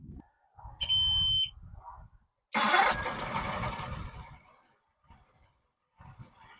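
A Mercury 200XL EFI outboard motor starts during a Rydlyme flush: a short electronic warning beep, then the engine cranks, catches and runs loudly for a couple of seconds before settling lower.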